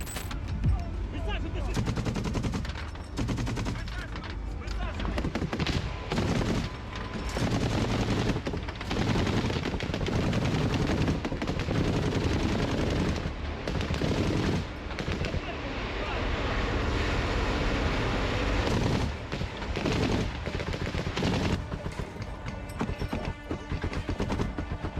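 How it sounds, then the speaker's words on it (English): Machine gun fire in combat during a war clash involving Ukrainian soldiers and tanks, loud repeated bursts of rapid shots broken by short pauses, with echoing booms and roaring noise between volleys. "While the gunner took his position and the roar of his weapon filled the air"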